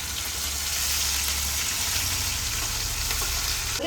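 Crushed ginger, garlic and small chilies sizzle steadily in hot coconut oil for a Kerala red snapper pollichathu, a loud, continuous close frying hiss with no talking.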